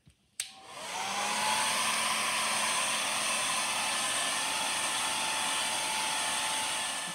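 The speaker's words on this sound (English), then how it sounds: "Let's dry this with the blow dryer and then see what it looks like." A click, then a hair dryer starts up and blows at a steady, loud whoosh with a constant high whine while drying watercolor paint.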